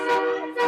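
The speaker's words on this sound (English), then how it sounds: "a train horn just whispered into my ear" A train horn sounds briefly at a college hockey game between CMU and Notre Dame, a steady harmonic blare held for under a second.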